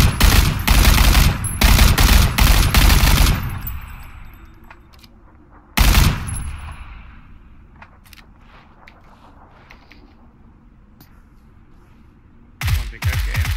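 Bursts of M249 machine gun fire in PUBG, a long loud rattling volley, a brief second burst, then quieter distant shots and footsteps before another burst at the end.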